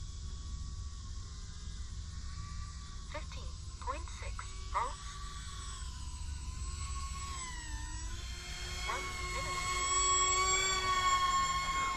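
A small RC model aircraft called the Flerken, flying without a gyro on its maiden flight, whines at full throttle with rising and falling tonal motor pitch, sustained and fairly loud, with voices talking over it.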